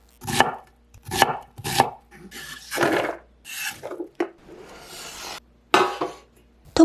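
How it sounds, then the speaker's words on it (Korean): An onion being chopped into small squares on a board, knife strokes landing in separate, close, crisp bursts with short pauses between them. "양파는 작은 네모 모양으로 썰어주세요."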